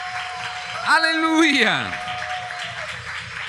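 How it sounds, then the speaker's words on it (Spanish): A church congregation claps for the Lord during a Spanish-language sermon, a steady wash of applause running under a preacher's loud, drawn-out exclamation. "dale ese aplauso al Señor"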